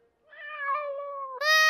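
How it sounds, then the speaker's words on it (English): A cartoon cat gives a short meow that rises and wavers, followed by a brighter, higher squeal, heard clearly on its own. "But, Mother, we saw a cat!"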